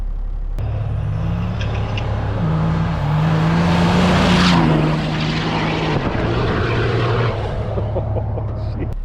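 A loud diesel engine from a triple-turbo Cummins truck roars past close by, its pitch sliding as it approaches and recedes, ripping by at high speed.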